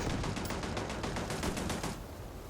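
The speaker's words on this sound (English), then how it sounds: "What are you shooting at?" Rapid bursts of video game gunfire in a sci-fi shooter, a dense stream of repeated shots fairly loud and steady before thinning out near the end, with no talking.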